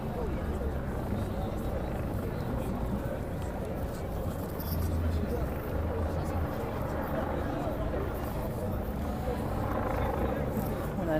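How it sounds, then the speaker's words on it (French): A helicopter flying over Place d'Italie in Paris gives a steady, droning low rumble that holds for the whole stretch, with a faint murmur of voices underneath. "On a là toujours l'hélicoptère,"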